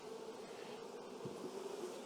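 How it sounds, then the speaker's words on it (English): Honeybees swarm around an open hive during queen rearing, their steady, dense buzz droning close and continuous throughout with no voices. "All these bees."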